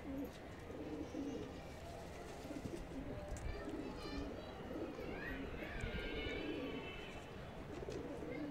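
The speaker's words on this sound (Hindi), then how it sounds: "अपने कावली कबूतर काफ़ी देर से उड़ने लग रहे हैं" Kawli and desi high-flyer pigeons cooing softly outdoors amid a steady wash of ambient noise, with faint wingbeats and occasional chirps; no clear voices.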